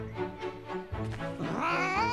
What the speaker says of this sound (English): You're heading right for all those filthy cats!